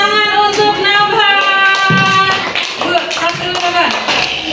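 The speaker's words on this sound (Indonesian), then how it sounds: "Tepuk tangan untuk Nabha." Children in a classroom clap for a classmate in a brisk burst of taps and claps, mixed with young voices and bright tones, close and fairly loud.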